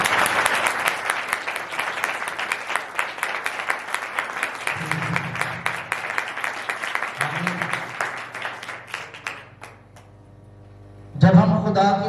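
A church congregation claps loudly and steadily during a Sunday sermon, a dense, continuous wash of applause. Near the end the clapping fades and a sudden burst of voices and music cuts in.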